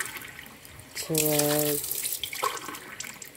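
Tap water pours into a container while Maja Blanca is being made, a bright splashing rush in the middle of the clip that comes and goes around a woman counting aloud nearby.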